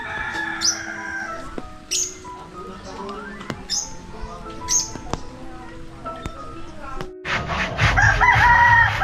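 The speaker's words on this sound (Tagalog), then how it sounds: "Ay, manok." A rooster crows several times at a moderate distance, its calls repeating among chirps and clucks, with a person talking near the end.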